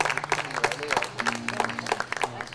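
A concert audience applauds to welcome a band, with loud, uneven clapping and crowd noise over sustained instrument tones.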